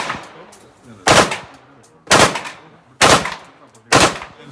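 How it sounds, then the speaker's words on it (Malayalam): Four loud, sharp gunshots fired at a shooting range in Russia, evenly spaced about a second apart, each a sudden broadband crack with a short decaying tail, with no talking between them. "എങ്ങനെയാണ് വെടിവെക്കുമ്പോൾ തോക്ക് ചേർത്ത് വെക്കേണ്ടതെന്നാണ് ഇദ്ദേഹം പറയുന്നത്."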